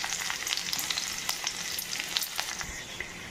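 Garlic frying in hot oil in a home kitchen, a dense continuous sizzle with scattered crackles and pops, close and fairly loud.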